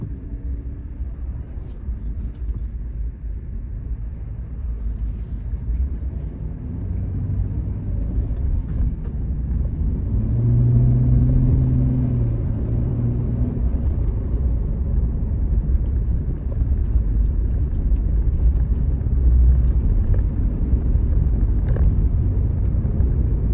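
Road traffic near Imperial Beach in San Diego, California: many cars drive past in a continuous low rumble that grows louder and denser midway, with faint passing swells heard from inside a moving vehicle.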